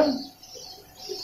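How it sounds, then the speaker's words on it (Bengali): Pigeons in a pigeon loft at a farm in Munshiganj, Dhaka, give a brief soft cooing murmur, close by and fairly quiet. "এই যে দেখতে পাচ্ছেন সবগুলো কবুতর এই কবুতর গুলা খুব অ্যাক্টিভ আছে"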